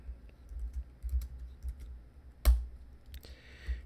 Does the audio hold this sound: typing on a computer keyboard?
yes